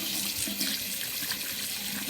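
Tap water runs steadily to rinse scrub off skin, a continuous close hiss and splash with no voices.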